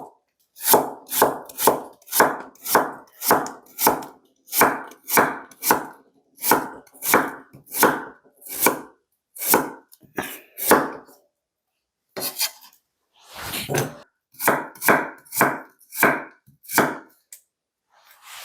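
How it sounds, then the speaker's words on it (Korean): A knife chops radish into small squares on a cutting board in crisp, rhythmic bursts of strokes with brief pauses between runs, close and clear. "그대로 하면 좀 크니까 이렇게 좀 잘라 볼게요."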